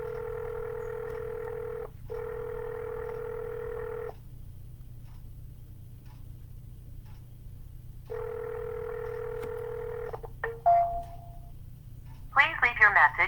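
A telephone line for real estate cold calls gives two long ringback tones separated by silence, then a quick burst of dialing beeps and clicks as the call connects, all heard close through the handset.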